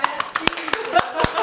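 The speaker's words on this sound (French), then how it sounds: "j'aimerais qu'on l'applaudisse très fort" A few people clap in scattered, uneven bursts at a closing thank-you during an object-hunt challenge, with a voice speaking over the sparse claps.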